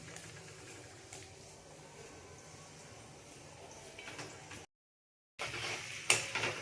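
Onion, garlic, chilli and tomato mixture stirred in a pan, giving soft scraping and light sizzling with occasional utensil clinks, close but quiet, broken by a brief silent gap before a louder scrape.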